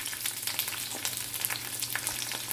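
Steady crackling sizzle of onion frying in hot oil, dense and continuous with small pops, close up and fairly quiet.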